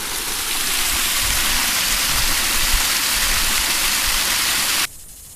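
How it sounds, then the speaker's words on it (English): Water rushing through a homemade pond drain siphon pipe, a loud, steady close-up gush of flow that cuts off abruptly near the end. "So now the siphon is going."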